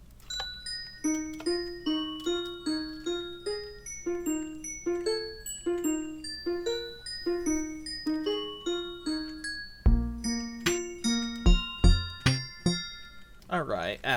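A Minecraft note block melody of a song plays alone as a bright, bell-like sequence of plucked tones in a steady repeating rhythm, with denser, lower notes joining near the end.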